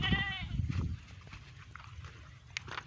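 Goats on a hot rural roadside in Pangasinan province, Philippines, give a short bleat at the start, followed by faint scattered calls and rustling; no talking.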